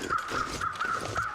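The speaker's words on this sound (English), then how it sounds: "Yeah, those are those crows over there." Crows in The Long Dark give a quick run of harsh, repeated caws, about five short calls at a steady pace, moderately near over soft ambient wind.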